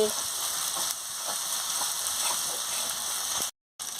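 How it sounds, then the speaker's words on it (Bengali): Spice paste fries in a pan for a whole bata fish curry, making a continuous soft sizzle with faint stirring scrapes before cutting abruptly to silence near the end. "দিয়ে মশলাটাকে ভালো করে ভেজে নিচ্ছি"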